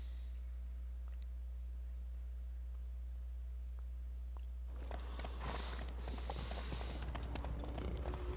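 Horse hooves clip-clop at a racing pace in The Witcher 3, entering about halfway through as rapid, steady beats over a constant low hum, loud and up close.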